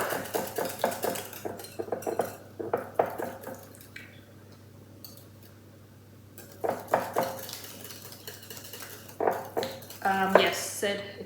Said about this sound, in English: Ooh, a bit of lumpy lumps in there. Let me get those out. I feel like there's a few lumps. Put this down so I can mix it a bit more.